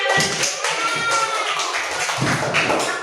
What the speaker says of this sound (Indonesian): Tepuk tangan untuk grup Ar-Rahman semuanya.